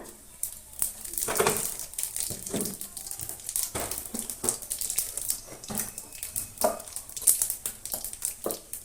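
Radhuni seeds tempering in hot oil for a pumpkin-leaf fish curry, a crackling sizzle with sharp pops and spits scattered across the frying, close and steady.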